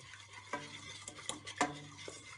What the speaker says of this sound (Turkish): Şöyle iyice bir karıştıralım.